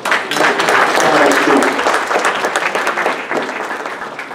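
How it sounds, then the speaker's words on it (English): Dense, sustained applause from an audience at a pediatric sleep apnea event fills the room loudly and evenly, a steady wash of many hands that tapers slightly toward the end. "applause."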